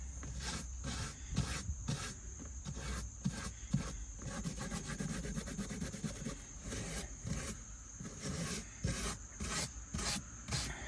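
Soft bristle brush scrubbing into the crack of a car's leather seat, rapid rhythmic rasping strokes close up, repeating steadily with brief pauses, no talking.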